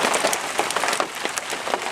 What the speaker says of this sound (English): whether you can hear me or not, over this rain